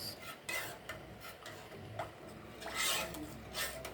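Coconut and peanut punch stirred in a container, a soft continuous rubbing and scraping with light spoon knocks, quiet and close with no voices.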